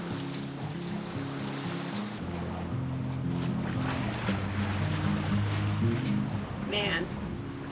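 A sailboat moves across calm seas, with a steady wash of water and wind around the hull and a low, droning tonal hum underneath; a voice is heard briefly.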